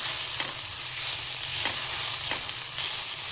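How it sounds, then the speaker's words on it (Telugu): Gongura leaves fry in a pan with a steady broadband sizzle, and a few soft scrapes of stirring land at regular intervals, close and moderately loud with no voices. "ఇది మాడిపోకుండా ఇందులోనే మెత్తబడే వరకు వేయించుకోవాలి"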